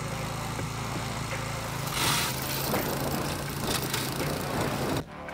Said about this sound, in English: The Renothin Dethatcher has a simple pull-start petrol engine